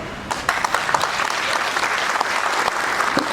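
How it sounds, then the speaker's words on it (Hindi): An audience at a talk claps loudly and continuously, dense, steady applause filling the room from start to finish. "जोरदार तालियां"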